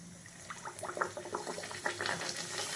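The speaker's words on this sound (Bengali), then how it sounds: "এরপর গ্যাসের মধ্যে আমি কড়াই বসিয়ে দিয়েছি, তেল গরম হয়ে গেছে, এটা আমি তেলের মধ্যে দিয়ে দেবো" Radhaballavi dough sizzles and bubbles in hot oil in a wok on a gas stove, a steady, fairly soft frying hiss dotted with small crackles and pops.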